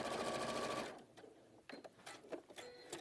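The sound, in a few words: sewing machine stitching laminated raincoat fabric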